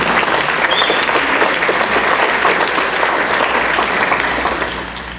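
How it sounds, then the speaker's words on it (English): Audience at a Rotary Club meeting applauds steadily, a dense loud clapping that holds for several seconds before tapering slightly at the end. "Let's give Sandy a round of applause."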